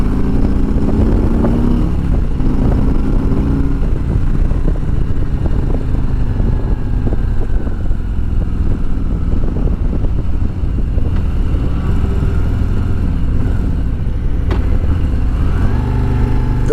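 A 2020 Harley motorcycle with a slip-on exhaust pulling at full throttle in third gear, a loud, continuous engine roar that holds steady for the whole stretch.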